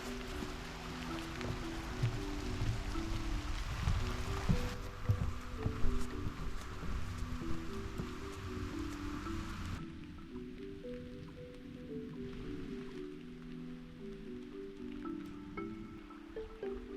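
Rain falls steadily on a forest hiking trail in Parker Dam State Park in fall, a soft continuous patter with dripping, heard alone with no talk.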